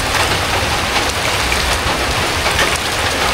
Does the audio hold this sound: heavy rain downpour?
yes